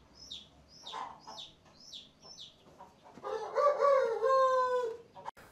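Crowing from a giant rooster of a newly bred large chicken breed, raised in São Paulo state: a run of short chirpy calls, then a loud, drawn-out, harmonically rich crow close by, with no talk.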